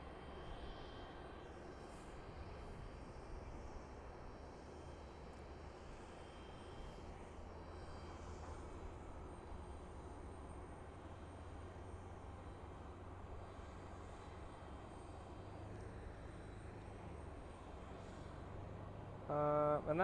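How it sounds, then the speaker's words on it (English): Firefighter jet, an Avro or BAE type, at Boise Airport, a steady, distant engine roar that holds at a low, even level throughout before swelling slightly at the end. "that firefighter jet is not on the board here"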